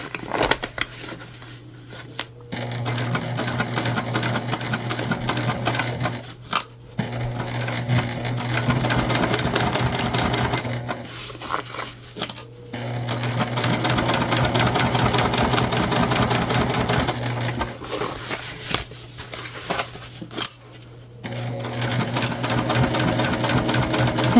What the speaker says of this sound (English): We'll go over a few and just back stitch